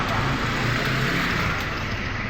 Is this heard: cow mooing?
no